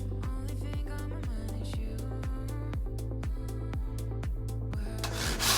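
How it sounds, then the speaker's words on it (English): A handsaw cuts an MDF door lining head to size in steady back-and-forth strokes, about two per second, each a gritty rasp, close and continuous with no voices. "we are here cutting this head to size with a handsaw"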